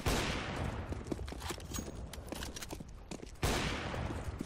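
Gunfire in the video game Counter-Strike: Global Offensive comes as a loud opening shot and then a run of scattered sharp cracks, with a second loud blast near the end.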